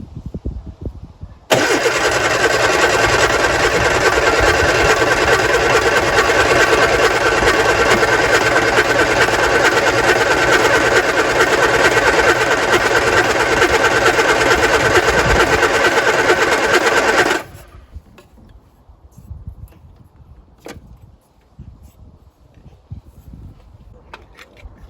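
A Lotus Twin Cam engine with carburettor and distributor problems is cranked over by the starter, a loud continuous whirring that runs for about fifteen seconds without catching, then stops and leaves faint clicks and handling noise.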